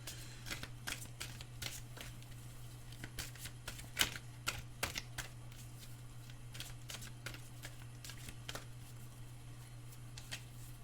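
Tarot cards being shuffled, giving faint, irregular soft snaps and flicks scattered through the clip over a steady low electrical hum.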